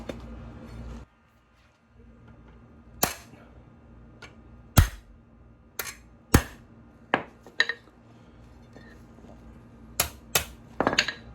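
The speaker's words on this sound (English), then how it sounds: "so we're gonna use the hammer. So we're just going to try to get it like this. See if we can beat it down." Hammer beating down the wheel of a portable BBQ, a series of sharp metallic strikes spaced irregularly, loud and close, with quiet gaps between.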